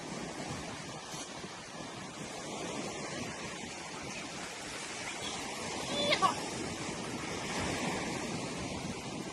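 Arabian Sea waves wash in at Malpe beach, Udupi, where the river meets the sea, a continuous rolling surf with wind noise, swelling slightly midway.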